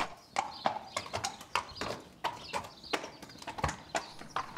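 A horse's hooves clip-clop steadily on a hard floor as it is led out of its stall at walking pace, close and distinct with no voices.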